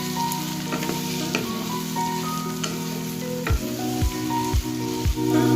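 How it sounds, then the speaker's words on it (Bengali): Chopped carrot, capsicum and potato fry together in a pan for poha pulao. A steady close sizzle runs throughout, and several clanks from a spatula stirring against the pan land toward the end. No one speaks. "ছোট করে গাজর কেটে রেখেছি, ক্যাপসিকাম, আলু একসাথে ভেজে নেব।"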